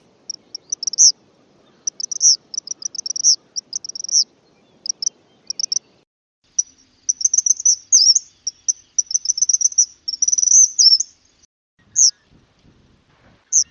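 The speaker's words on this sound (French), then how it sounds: "Maintenant, écoutons bien son chant." Eastern kingbird song: bursts of high, sharp, sputtering chips and twitters in quick clusters, repeated through the clip and fairly close, with no other sounds.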